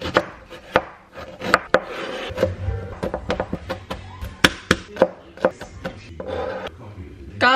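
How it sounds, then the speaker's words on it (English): A knife on a cutting board finely chops ginger and garlic in a quick, uneven run of sharp, close taps, some in rapid clusters, with a faint rubbing scrape between strikes and no talking. "I'm gonna use ginger and I'm gonna use some garlic. I need to crush that up really, really finely."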